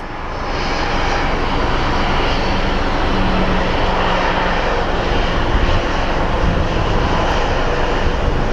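Small Airbus airliner bound for St. Louis powering up for takeoff at Phoenix Sky Harbor airport, a loud, sustained engine roar that swells in the first second and then holds steady at a distance.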